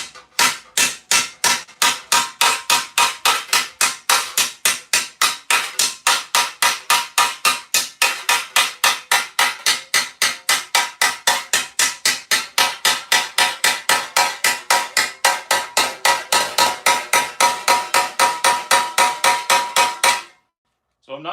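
An air-powered hammer pounds metal being shaped into armour, a fast steady train of loud sharp strikes running continuously for about twenty seconds before stopping.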